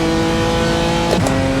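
BMW M4 engine in a racing simulator at the Nürburgring, a steady loud drone that briefly surges as the power comes back on after braking uphill.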